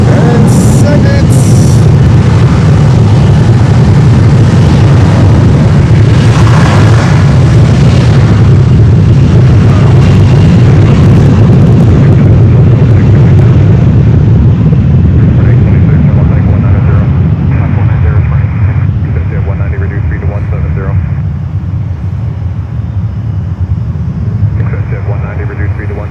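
A Delta jet airliner taking off at Fort Lauderdale airport, a loud sustained engine roar filling the scene and slowly fading, with a voice talking over it.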